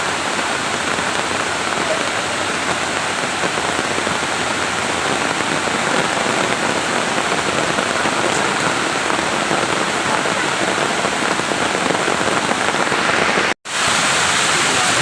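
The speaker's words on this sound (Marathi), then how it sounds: "पाऊस आला हे" Heavy rain pours down on a village in a dense, loud, unbroken roar that stays steady throughout, with only a momentary dropout near the end.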